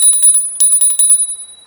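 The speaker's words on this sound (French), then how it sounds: "On a une magnifique sonnette." Bell on an ENGWE P1 electric bike: a rapid burst of bright metallic dings rung repeatedly, close and loud, then ringing out and fading.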